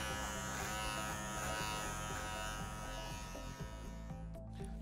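A Philips electric hair clipper trims hair for a buzz cut, giving a steady, loud, close motor buzz that runs continuously and cuts off at the end.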